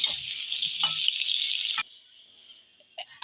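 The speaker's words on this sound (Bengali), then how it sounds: "আলুগুলো ফ্রাই করার জন্য সামান্য একটুখানি আমি হলুদের গুঁড়ি দিয়ে দিলাম" Potato pieces frying in oil in a kadai with a pinch of turmeric powder and salt, giving a steady, bright sizzling hiss that drops to a fainter crackle partway through, with a few small clinks.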